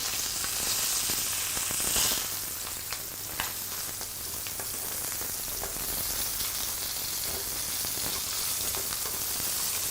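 Small yellow croaker frying in a pan, a steady dense sizzle and crackle running throughout with scattered pops, close and fairly even, with no voices.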